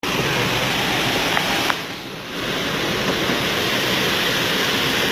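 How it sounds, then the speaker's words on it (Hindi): Heavy rain pours down steadily during the rainy season in Hyderabad, a dense, even roar of water that fills the whole stretch, briefly dipping for a moment before surging back at full strength, with no voices. "बेहतरीन बारिश, ये मौसम बारिश का आखिरी महीना है अल्हम्दुलिल्लाह।"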